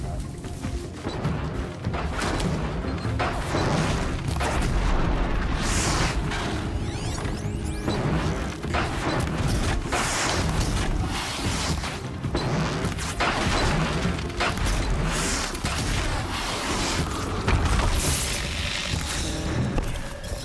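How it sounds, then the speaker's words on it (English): Bomb explosions in the video game Horizon Zero Dawn, a dense run of loud booming blasts and crashes across the whole stretch, with a player's voice talking over the action. "I can't dodge this thing, dude. What are these bombs?"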